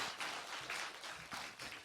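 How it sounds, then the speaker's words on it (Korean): A church congregation claps for its choir after a hymn during a worship service, a soft, steady patter of many hands with slight swells, heard from a distance. "우리 다시 한번 할렐루야 찬양대 축복의 박수 부탁합니다"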